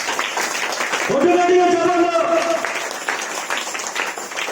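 Church congregation clapping, a dense continuous patter of many hands under a preacher's voice and a sung or shouted phrase, loud and close.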